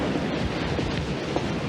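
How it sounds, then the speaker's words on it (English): Strong wind blowing outdoors across open Western country, a steady, loud broadband roar with gusty buffeting against the microphone, continuous throughout with no voices. "it's windy enough we could blow back to Austin"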